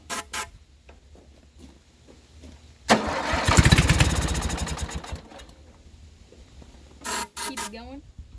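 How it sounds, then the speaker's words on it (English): A lawn mower engine, primed with starting fluid sprayed into the intake, cranks with a spray hiss, then catches and runs raggedly for about two seconds before sputtering down, followed by another brief cranking burst, with people talking. "let's shoot some down the intake and see if this thing will start up"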